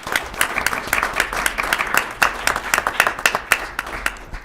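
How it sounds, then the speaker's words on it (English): A room welcomes Stillwater's new city manager, Kimberly Meek, with applause at a city council meeting, a moderate crowd of individual claps that rise and fall over a few seconds with no talk over them. "Let's all give her a round of applause."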